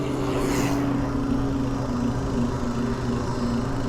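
A Freebeat MorphRover 2-in-1 electric bike runs on its throttle indoors in pedal assist level 1, its motor giving a steady, loud, close whirring hum that holds without a break.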